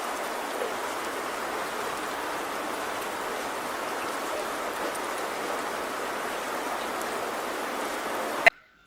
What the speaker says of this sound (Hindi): सुना आपने, बहुत ही गंदी वाली बारिश हो रही है